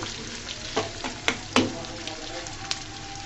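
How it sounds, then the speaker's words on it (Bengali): Chopped onion hits hot oil and sizzles steadily, with a few sharp pops and clicks from a utensil, close and moderately loud, with no voice heard. "তেলটা আমার গরম হয়ে গেছে। দিয়ে দিচ্ছি পেঁয়াজ কুচিগুলা।"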